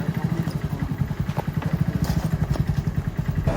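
A motorcycle engine runs nearby with a steady, rapid chugging pulse, loud and close, with a few clattering knocks on top and no voices.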